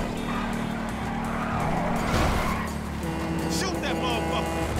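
A car is driven hard in GTA 5, its engine droning steadily with tire squeals and skids and some gunfire mixed in, while voices talk over the din.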